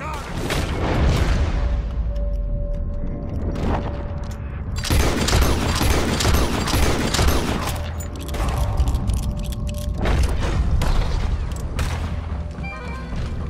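Repeated heavy gunfire volleys at a massive gator in Red Dead Redemption 2: loud, dense bursts of shots and booms with brief lulls, continuing for the whole stretch.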